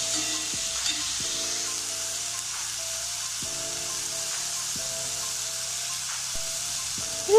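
Onions and tomato sizzle and fry steadily in a pan for squid biryani, a constant hiss broken by a few soft scrapes of stirring, with no talking.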